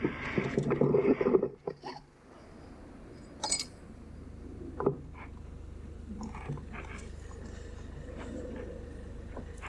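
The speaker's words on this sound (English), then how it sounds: "That was the noise of a bracket." A metal bracket falls in a Chrysler 300C engine bay with the OM643 diesel during glow plug module replacement: a metallic clatter and scrape up close, then scattered sharp clinks and taps over a low, steady hum.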